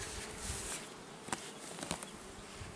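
Honey bees buzz around beehives during a May honey harvest, a close, steady droning hum with a few individual bees passing near, along with occasional light taps and rustles.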